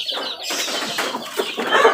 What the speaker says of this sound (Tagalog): At meron pa akong bagong pisa guys.